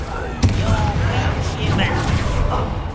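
A Confringo blasting spell effect from a film goes off as one sudden loud boom, then a dense rumbling, crackling roar that fills the rest of the moment.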